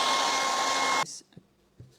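A hair dryer blows hot air across fresh white paint on a Valentine welcome sign, a loud steady whoosh that cuts off abruptly after one second, leaving near silence with a couple of small knocks.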